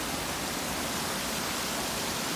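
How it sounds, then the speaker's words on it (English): A huge waterfall rushing near a swimming hole, a steady, dense roar of falling water heard alone for a couple of seconds. "And down further there is a swim hole, and then there is this huge waterfall."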